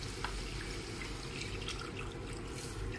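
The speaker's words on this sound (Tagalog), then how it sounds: "Lagyan natin ng tubig." Water poured into a pot of beef for Filipino bulalo soup, a steady liquid rush and trickle running continuously for a few seconds at moderate, even loudness, with no talk over it.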